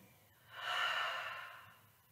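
One slow, deep breath taken during an evening yoga relaxation session, a soft airy exhale swelling and fading over about two seconds, close and quiet with no talking.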